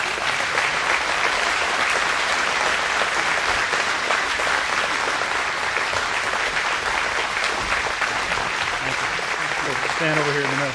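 Loud, sustained audience applause at a tractor-related live event as a man is called up to the front, continuous dense clapping throughout with a voice emerging near the end.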